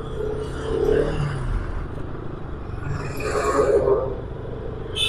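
Heavy road traffic on the Mumbai–Goa Highway near Mangaon: a steady, fairly loud rumble of passing cars and engines, with a brief scrape near the end.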